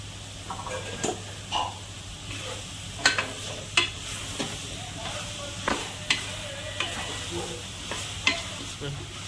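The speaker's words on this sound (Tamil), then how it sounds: "இப்போ இந்த பலாக்காயும் போட்டு இதிலே வதக்கிறோம்" Boiled young jackfruit sautéed in a pan, with a steady sizzle under repeated scraping and clacking strokes of a spoon at irregular intervals, close and fairly loud.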